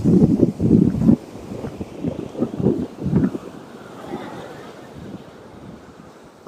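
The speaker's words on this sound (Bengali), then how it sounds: "নিচে ঢেউ দেখুন, মারাত্মক পরিমাণে ঢেউ এখানে" Sea waves breaking at Shankarpur beach, with heavy, rolling surges of surf loud in the first few seconds, then easing to a softer wash under steady wind noise.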